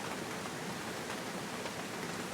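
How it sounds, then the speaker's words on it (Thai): Rain falls steadily outdoors as a dense, even hiss with no pauses. It is close and fills the whole background. "ฝนตก"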